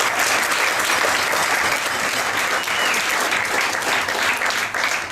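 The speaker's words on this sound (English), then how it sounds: "Everyone give them a round of applause." Wedding reception guests give the venue staff a steady round of applause, a thick wash of many hands clapping at full volume throughout, with no speech over it and only a brief dip near the end.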